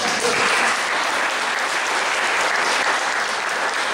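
A congregation at a Catholic preaching event applauds a volunteer playing the sin of wrath, loud, continuous, dense clapping throughout.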